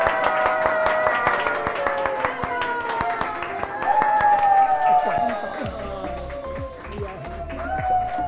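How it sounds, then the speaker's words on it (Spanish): A studio audience on a Chilean television show breaks into sustained clapping and applause, loud and steady throughout, mixed with tonal music playing alongside. "¡El aplauso!"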